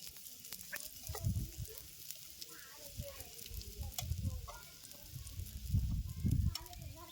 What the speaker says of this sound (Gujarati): આ રીતે એની આજુબાજુ થોડુંક થોડુંક તમારે તેલ રેડી લેવાનું છે